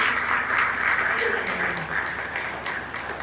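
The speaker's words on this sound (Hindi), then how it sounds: "इस पर जोड़ा तालियां बजा दो।" Dense, steady applause from a seminar audience in Noida fills the whole stretch at a fairly loud, even level, with a faint murmur of voices beneath.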